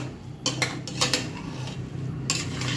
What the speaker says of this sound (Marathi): हे चांगलं असं मिक्स करून घेतो.